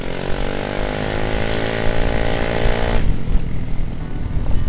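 A Yamaha Mio M3 2020 scooter fitted with an Emberr Gledek aftermarket exhaust runs close and loud with a buzzing, harmonic-rich engine drone, then turns rougher and grittier about two-thirds of the way through.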